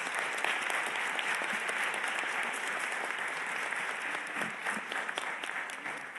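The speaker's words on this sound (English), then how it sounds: "To give a big applause to" A conference audience at a UNHCR panel meeting in Geneva claps steadily and evenly for the panelists, a dense, continuous applause filling the whole stretch without voices on top.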